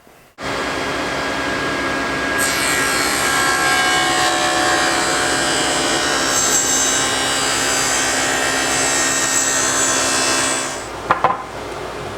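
A SawStop table saw cuts a 3/4 inch deep groove in wood, a loud steady whine and roar running for about ten seconds before spinning down, close and alone with no talk.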